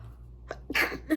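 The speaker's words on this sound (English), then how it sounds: "I gotta sneeze" A single sharp sneeze with a quick breathy intake before it, close by, followed by a short nasal burst at the end.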